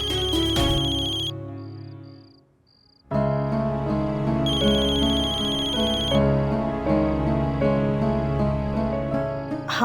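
A telephone ringtone plays loudly and continuously as a melodic electronic tune, briefly dropping out after the opening notes before resuming steadily.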